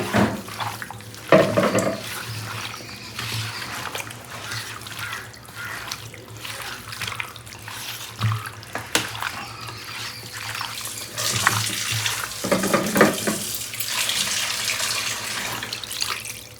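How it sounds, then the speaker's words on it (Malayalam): Water pours into a pan to make gravy for chapati, a continuous splashing run of liquid with louder bursts near the start and middle and toward the end, with no voices. "വെള്ളം ഒഴിച്ചു കൊടുക്കാം കേട്ടോ. കുറച്ച് കൂടുതൽ വെള്ളം ഒഴിക്കുക."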